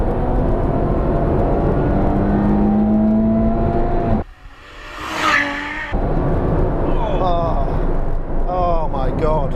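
Ferrari 812 V12 engine revving hard, a loud sustained roar with rising and falling pitch as it climbs through the revs, briefly dropping away before returning with sharp upward sweeps.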